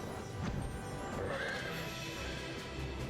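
A horse mount in the online game Final Fantasy XIV neighs and whinnies over a steady backdrop of game music and ambience, with faint clip-clop hoof sounds; no one talks.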